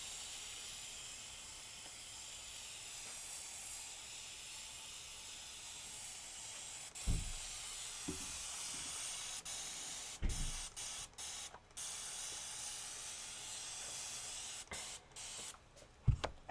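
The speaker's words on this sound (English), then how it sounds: "my arm gets tired when I'm like spraying this much fabric" A hand pump sprayer misting water onto quilting fabric gives a steady, quiet hiss close by, broken near the end by a few brief handling clicks and low thumps.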